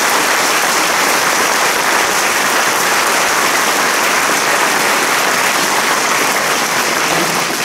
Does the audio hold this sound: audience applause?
yes